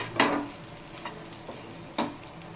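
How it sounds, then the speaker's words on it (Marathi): Onion and coconut dry-roasting together on a single griddle, with a few sharp scraping strokes of a spatula over a faint steady sizzle, alone with no voices. "एकाच तव्यावर आपण कांदा आणि खोबरं भाजून घेतलंय।"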